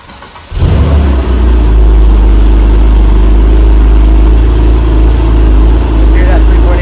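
A 2013 Porsche 911 Carrera 4S Cabriolet with a naturally aspirated 3.8-liter flat-six and PDK starts up close by, a sudden loud crank into a deep, steady rumbling idle that holds strongly throughout.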